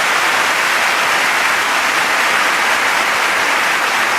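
Sustained audience applause from a large crowd at a political event, dense and loud with a steady even texture throughout, no voices standing out.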